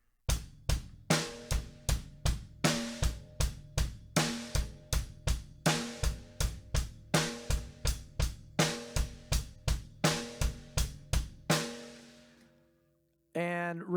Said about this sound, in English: Our snare is on beat 2 and 4, and then the bass drum is on every other beat